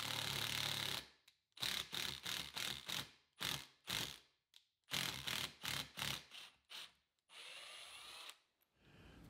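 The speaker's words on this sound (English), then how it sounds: "I'll use the lag bolt to tap the threads in the leg." A 5-inch lag bolt driven into a white oak trestle leg with a power driver, heard as a series of short, loud whirring bursts with ratcheting pauses between them, close up and with no talk.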